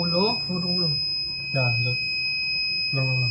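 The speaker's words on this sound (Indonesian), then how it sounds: "di sini lebih dari 30 maka lampu dan buzzernya akan hidup dan servonya ke derajat 90" A buzzer on an IoT temperature monitor sounds above 30 degrees, a continuous steady high-pitched tone running throughout beneath a person talking.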